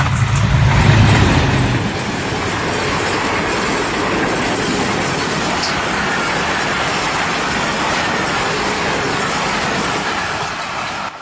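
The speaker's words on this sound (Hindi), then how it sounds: "जब सर सैयद एक्सप्रेस तेज़ रफ्तारी से आ रही थी" The Sir Syed Express of Pakistan Railways passes at speed, a loud close rush of rolling wagons with rhythmic clatter and wheel noise, steady throughout after a heavier opening swell, with no voices.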